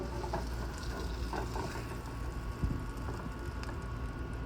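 Blackened bowfin and catfish pieces fry in a pan with a low, steady sizzle and faint crackles, quiet and continuous with no talk over it.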